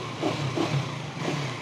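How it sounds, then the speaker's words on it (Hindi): KTM Duke 390 single-cylinder high-compression engine running nearby, a steady low throb with a few short rising pulses in an uneven rhythm, moderately loud and without speech. "सिंगल सिलेंडर तो है ऑब्वियस है, और ये हाई कंप्रेशन इंजन होते हैं, इनके अंदर जो साउंड आता है वो ऐसे ही आता है"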